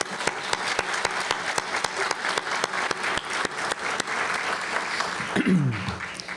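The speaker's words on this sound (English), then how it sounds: "let's give the president a round of applause, all right?" A dinner crowd gives the president a dense, sustained round of applause, many hands clapping at once with a brief voice rising near the end.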